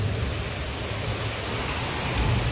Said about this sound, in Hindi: सुबह सुबह से बारिश चालू हो गई